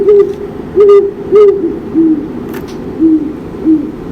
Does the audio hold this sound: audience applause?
no